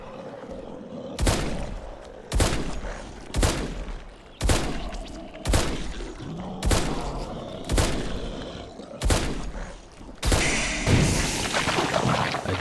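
Eight sharp gunshots crack out at roughly one-second intervals in the zombie survival game HumanitZ, each a loud punchy blast with a short decay. A rumbling burst trails the final shot.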